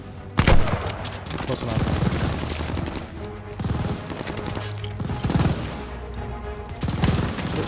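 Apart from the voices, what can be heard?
gunfire from enemy soldiers in video game Call of Duty Vanguard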